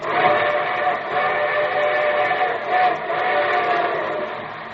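A loud, sustained steam train whistle sounds continuously, its rich tone wavering slightly in pitch as it carries on.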